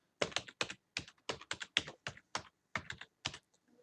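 Brisk typing on a computer keyboard, a dozen or so crisp, close key clicks in quick irregular bursts, alone with no talking and ending in near silence.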